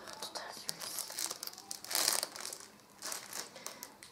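Close, soft crinkling and tearing of wrapping paper as a wrapped Christmas gift package is opened, in irregular rustling bursts with a louder rip midway.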